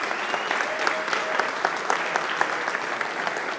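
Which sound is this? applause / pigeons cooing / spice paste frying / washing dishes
applause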